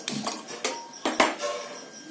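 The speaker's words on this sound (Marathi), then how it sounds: "या ठिकाणी आपण आता कढई गरम करण्यासाठी ठेवून घेऊया." A metal kadhai is set down on a kitchen stove to heat for making vermicelli kheer, giving several sharp, close metallic clanks and rattles in quick succession with no talking.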